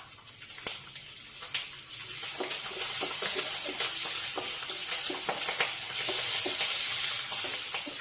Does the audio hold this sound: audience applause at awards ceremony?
no